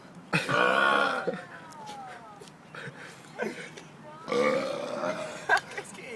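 Several loud, drawn-out burps with gurgling, voiced tones, one long belch early on and another later, separated by quieter throaty sounds and brief noises.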